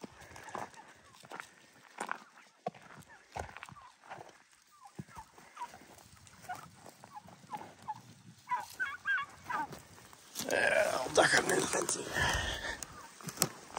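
A flock of turkeys being herded on an evening drive gobbles and clucks, growing louder and busier toward the end, with footsteps and someone talking throughout.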